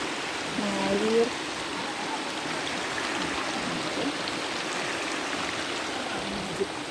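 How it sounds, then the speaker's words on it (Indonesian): Mountain stream water flowing steadily on a hiking trail at Gede Pangrango via Cibodas, a constant broad rushing wash with a faint voice murmuring in the background early on. "suaranya menenangkan sekali ya kalau ada suara air"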